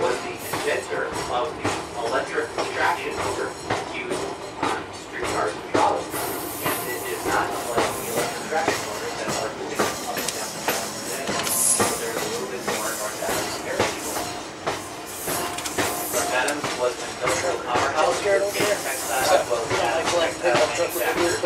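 Train ride on the Pittsfield & North Adams rail line from Adams to North Adams, with steady loud rumble, wheel clatter and hiss from inside the moving car, and voices talking throughout.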